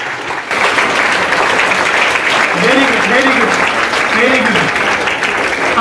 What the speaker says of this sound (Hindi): भाई अपनी भी ताली बजाइए